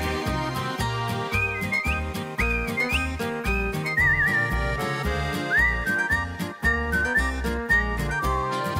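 A person whistles a lively tune, clear and fairly loud, gliding over a bouncy instrumental accompaniment with a steady rhythmic beat.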